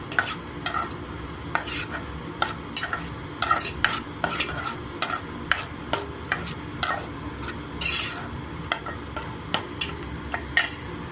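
Eggs frying for egg fried rice while a spatula stirs and scrapes the pan in quick irregular strokes over a low sizzle, close and clear, with no talking.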